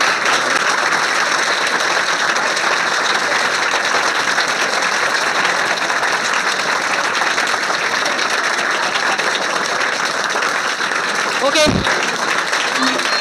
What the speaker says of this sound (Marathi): कंप्लीट 1 मिनिटपर्यंत टाळ्या थांबायला नको पाहिजेत है ना